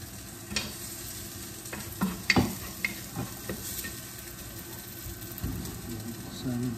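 Chicken biryani ingredients, including onion, potato and tomato sauce, being stirred and mixed in a pan, with scraping strokes and soft sizzling at close range and a few louder knocks of the utensil against the pan.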